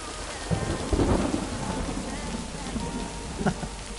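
Thunderstorm with steady rain deep in a forest in the game Lake: a continuous wash of rainfall with low rumbles of thunder rolling in, a stronger crack near the end, no talking.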